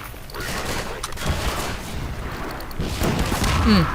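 Explosions and gunfire in the video game Half-Life 2: Episode 1: a dense, noisy barrage of blasts and booms rumbles steadily for four seconds and swells louder near the end.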